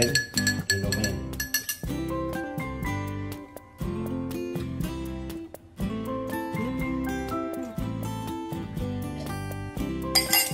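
Spoon stirring a drink in a glass, bright repeated clinks in an uneven rhythm lasting throughout, close and clear with no talking.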